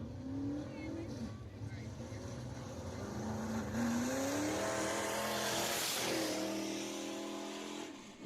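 A race car, the No. 9 car, accelerating during a Deep South Speedway heat race, its engine climbing in pitch through repeated gear pulls, loud and close, with another engine droning behind and a voice talking over the noise.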